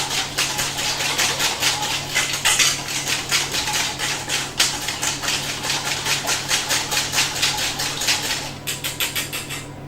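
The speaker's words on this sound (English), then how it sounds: "And a good whisk at the end." A whisk beats a golden dressing in a bowl with quick, steady, rhythmic metallic strokes, close and fairly loud, going on without pause, with no voice.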